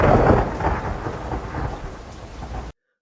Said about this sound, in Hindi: तेज आंधी ने रामू की झोपड़ी गिरा दी